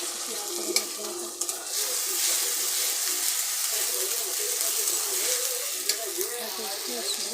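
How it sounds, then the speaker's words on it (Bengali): Onions and a spice paste fry in a pan for a chicken curry, a continuous hiss and sizzle with scraping stir strokes, while a voice speaks quietly over it. "পেঁয়াজটা লাল লাল ভাজা হচ্ছে। পেঁয়াজটা ভাজা হয়ে গেছে, এখন মশলাটা দিয়ে দিচ্ছি, পেস্ট করে মশলাটা।"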